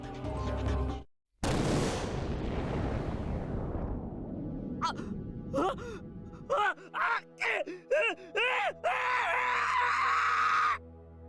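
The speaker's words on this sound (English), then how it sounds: "A scream burst from my throat" A scream in the visual novel game Chaos;Child, a loud, harsh cry that surges up and trails off, then gives way to a series of short, punchy bursts and a sustained bright tone toward the end.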